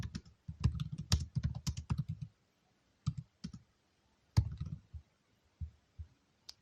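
Keys on a computer keyboard clatter in quick bursts and then slow to a few separate taps. The clicks are close, with quiet gaps between them.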